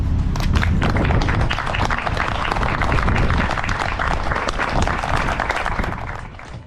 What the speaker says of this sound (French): Merci d'applaudir Ludivine.